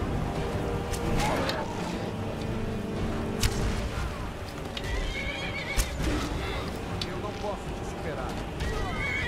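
Horse neighing in the video game Skyrim, with repeated whinnies and hoof clops amid busy combat noise, fairly loud and close.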